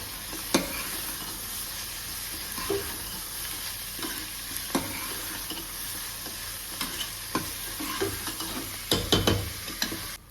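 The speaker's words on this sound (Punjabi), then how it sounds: "ਆਪਾਂ ਨੂੰ ਪਿਆਜ਼ ਨੂੰ ਮੀਡੀਅਮ ਫਲੇਮ ਤੇ ਭੁੰਨਦੇ ਹੋਏ" Onions frying over a medium flame for a homemade Punjabi-style chicken curry, a steady sizzle broken by repeated scraping stirs of a spoon in the pan, close and without talk.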